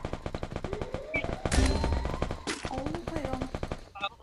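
Rapid bursts of gunfire in a shooting video game, loud and close, mixed with game sounds and music, while a player talks excitedly over them.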